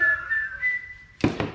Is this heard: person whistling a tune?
yes